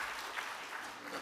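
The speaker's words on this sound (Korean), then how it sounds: "박수로 하나님께 영광 돌리겠습니다." Brief, faint applause from a church congregation during an ordination and retirement thanksgiving service, heard as a steady wash of distant clapping.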